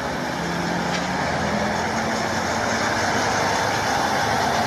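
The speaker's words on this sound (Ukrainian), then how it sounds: "Так, машини Національної гвардії України." Several National Guard of Ukraine vehicles rolling past on a blocked street near a detention center, a steady broadband engine and road rumble that holds at a constant level throughout, with no voices.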